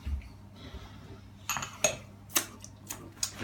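Metal utensil clinks and taps against a bowl as Weeping Tiger ingredients are mixed, a few sharp, close clinks spaced irregularly after a soft rustling start.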